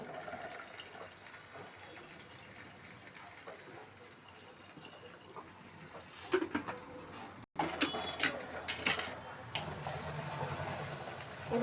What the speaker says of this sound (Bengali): এবার দিয়ে দিচ্ছি একটু জল।